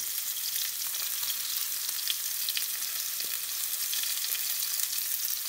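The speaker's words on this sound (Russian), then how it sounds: "Вот он так скворчит аппетитно." Steady, bright sizzling of sturgeon pieces frying in a hot pan, a constant hiss with small pops and crackles, close by and without any talking.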